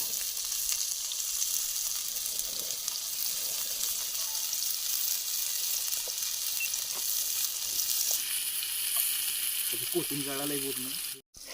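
Fish frying in a pan Konkan style outdoors, a steady close sizzle continuing throughout, with a brief rattle near the end.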